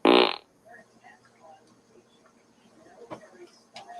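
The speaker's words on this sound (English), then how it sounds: "This is a fart." A Google smart assistant plays a loud synthetic fart noise at the start, a short dense burst, followed by quieter room sounds and faint talk.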